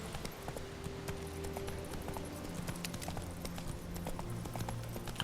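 Hooves of Roach, Geralt's horse in The Witcher 3, clip-clopping steadily over a faint ambient game background, soft and moderately distant as the horse approaches, with no talk.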